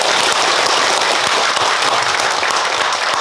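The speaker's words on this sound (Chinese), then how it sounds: "来给我们下午这些热烈掌声鼓励一下" Dense, loud applause from an audience at the close of an afternoon training lecture, steady clapping that fills the whole stretch without a break.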